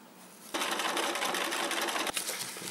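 A sewing machine stitches a seam along a leather wallet pocket, starting abruptly with a loud, steady mechanical whir that runs close and continuous to the end, with a brief hitch near the finish.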